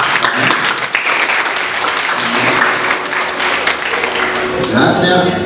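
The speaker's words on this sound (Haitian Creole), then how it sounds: "méritons un applaudissement" Audience applause at a back-to-school initiative event, dense and loud clapping sustained throughout with a few voices mixed in.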